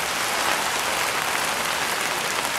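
Rain falls steadily on an iftar tent, a dense, even hiss of drops with no let-up and no voices.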